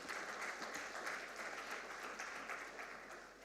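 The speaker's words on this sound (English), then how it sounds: "I believe all the panelists deserve a big round of applause." A conference audience applauds the panelists at an investment forum session, sustained and even clapping from a sizable crowd in a hall, steady throughout and slowly tapering at the end.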